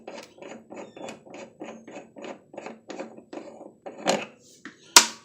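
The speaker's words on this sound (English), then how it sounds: "Now we want to go ahead and remove this pulley nut." A wrench works loose a pulley nut during an AYP mower spindle replacement, making a regular series of ratcheting strokes about twice a second, then a louder metallic clank and a sharp knock.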